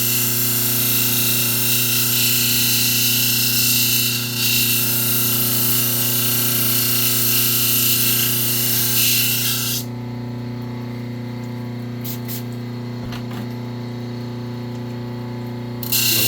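A Highland Park intarsia machine works wood with a steady motor hum and a gritty grinding rasp that stops partway through, leaving only the lower hum running, then a few brief clicks and sprays near the end.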